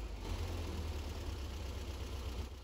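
An air-cooled VW Beetle engine idles steadily with timing retarded to about 7.5 degrees, a continuous low rumble heard close up and alone, without any talk.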